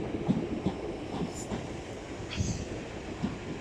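Train 465923, arriving from Charing Cross, rolls into Tunbridge Wells station with a steady rumble and a few periodic wheel clicks over the rail joints. Faint squeals rise now and then, and there is some low talk.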